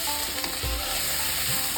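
Banana stem (thor) chhechki frying in a pan, giving a steady, close sizzle and crackle for about two seconds, with faint stirring bumps and no voices.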